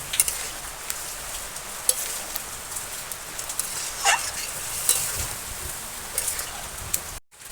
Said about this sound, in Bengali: প্লেট করা মাংস দিয়ে দিচ্ছি। কষাতে থাকবো এবার।